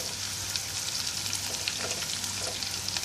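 Half a teaspoon of panch phoron spices sizzles in hot oil for a Bangladeshi broccoli vegetable dish, a steady, close crackling hiss with light stirring.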